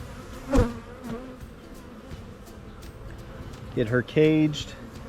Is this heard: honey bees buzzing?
yes